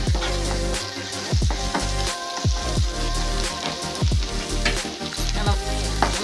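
A green chilli and garlic paste with onions crackles and spits in a pan while being stirred for chicken pola, giving irregular bursts of sizzling pops and clatter up close, with no one speaking.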